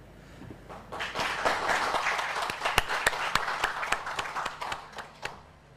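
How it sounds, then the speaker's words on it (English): A workshop audience claps for its trainers, beginning softly, then swelling into a moderate round with distinct individual claps popping out near the end before it fades. "Maybe we should hear a little applause to our"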